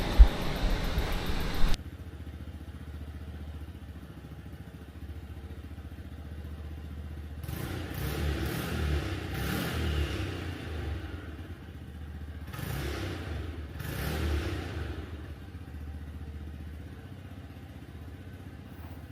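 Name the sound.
cars with started engines revving at night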